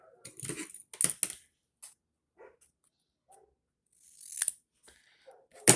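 Scissors snip through paper for a fancy-edged rosette, a few short, close, crisp cuts spaced out with quiet gaps between them.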